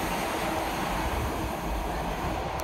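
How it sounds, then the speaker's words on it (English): A heavy Class 66 freight train rumbles and clatters past close by over track points, a loud continuous roar of wheels and metal over the track. "What a noise as it goes over the points."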